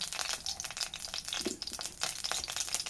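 About one and a half spoons of coconut oil in a well-heated pan, ready for mustard seeds, gives off a continuous faint crackling sizzle with small irregular pops and no voices.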